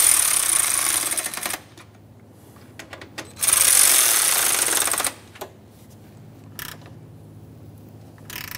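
Ratchet work on the cooling fan mounting bolts of a 1994-1997 Honda Accord 2.2L L4, with two long bursts of close, rapid mechanical clicking separated by quieter gaps and a few isolated clicks, no voices.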